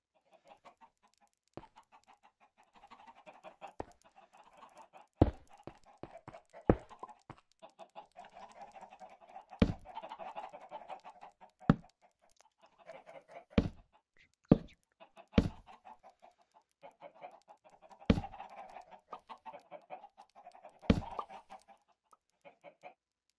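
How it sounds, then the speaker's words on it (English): Chickens on a Minecraft chicken farm, repeated short game clucks scattered irregularly over a steady low murmur of more hens, moderately loud and close. "Then we got the chicken farm."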